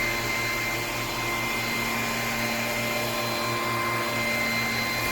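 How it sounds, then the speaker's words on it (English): A Bissell PowerClean FurGuard cordless vacuum cleaner with a 280W motor runs at a steady, loud, close whine with a constant hum throughout, alone without talk. "when I turn the vacuum on and the light comes on"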